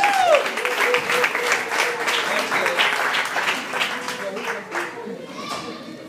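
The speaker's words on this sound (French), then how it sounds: "On applaudit pour Sœur Erlange" An audience at a church appreciation ceremony applauds warmly, with sustained clapping that slowly fades, while voices mix in with the applause.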